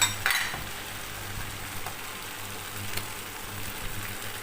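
Kway teow noodles being stirred in a hot pan with broth for Singapore-style fried kway teow, giving a steady close sizzle with scraping and clinks of the utensil against the pan, and no talking.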